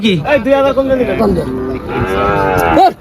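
Cattle lowing at a crowded cattle market in Faridpur, with one loud drawn-out moo near the mic and a second call following, over a dense bed of haggling voices.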